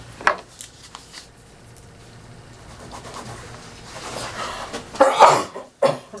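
A single sharp sneeze bursts out near the end, close and loud, after quieter rustling and small knocks, during a Board of Assessors meeting.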